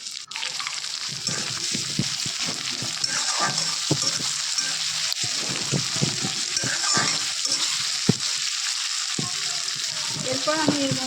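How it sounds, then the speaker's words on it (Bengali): Chopped tomato being stirred with a spatula into fried onions and chillies in a pan, steady close sizzling with repeated scraping and stirring strokes throughout. "এবার দিয়ে দেবো আমি কোচানো টমেটো, দিয়ে এটাকে ভালোভাবে খুন্তি দিয়ে নেড়ে দেবো"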